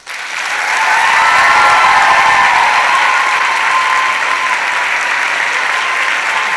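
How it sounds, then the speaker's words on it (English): A large audience at a tribute event breaks into loud, sustained applause that swells quickly and holds steady, a thick wash of clapping with faint crowd voices beneath. "Another round of applause, please."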